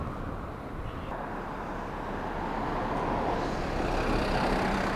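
A bus passes along a residential street amid steady traffic, a broad low rumble that swells and grows louder toward the end as the vehicle draws near, with no voices.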